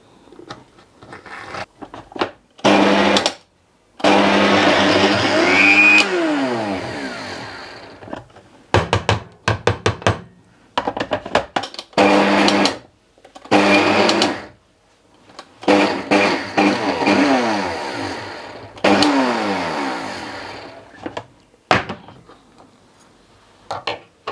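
A mixer grinder runs in short bursts on soaked tamarind in a small jar, loud whirring pulses of a few seconds each, separated by silent pauses, with occasional knocks of the jar.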